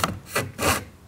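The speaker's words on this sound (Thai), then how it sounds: "อันนี้ก็เริ่มจากตรงนี้แล้วก็เลื่อยลงไป" A hand fret saw cuts through wood while an owl shape is scrolled out, giving three close, rasping strokes in a steady back-and-forth rhythm with no talking.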